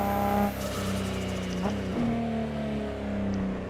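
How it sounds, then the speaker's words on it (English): Cars approaching in a driving video game, with steady engine drone and tonal motor whine that shifts in pitch as vehicles close in, plus a brief tire-squeal-like sweep, all fairly loud and continuous. "Couple of cars coming in, gonna pull over."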